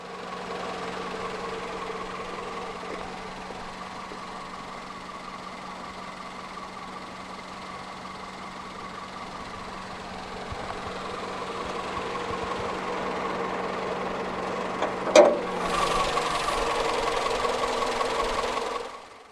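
A 2015 Renault Clio 1.2 16v with its D4F naturally aspirated inline-four idles with a steady low drone, then near the end the starter catches with a sharp burst and the engine settles into a louder, busier idle.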